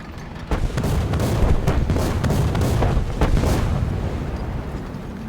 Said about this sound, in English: That's a bunch of artillery.